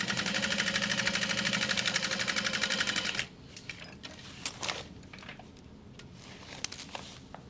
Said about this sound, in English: Make sure you are only sewing through that panel.